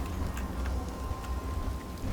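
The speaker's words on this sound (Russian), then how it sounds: "дождик прям хорошо так выделяется" Steady rainfall in the video game Fallout 4 patters continuously with scattered drop hits over a low rumble, evenly loud throughout and without any voices.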